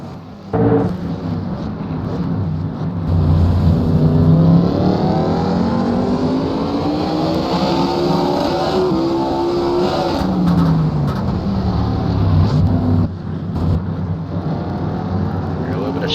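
A Southern Modified race car at Daytona, a two-gear machine, roars loudly and continuously close by, its engine pitch climbing, dropping through a gear change, then climbing again, with commentary voices running underneath.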